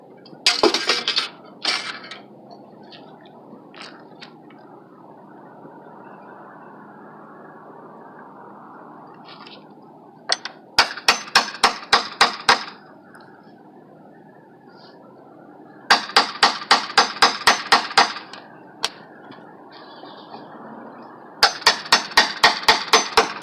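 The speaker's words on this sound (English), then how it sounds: "I was using the hammer to try to kind of pry the two pieces of wood apart" Wooden creaking and prying as a hammer pries two pieces of wood apart to reach a nail, broken by bursts of rapid, sharp clicking taps repeated in several clusters, close and fairly loud.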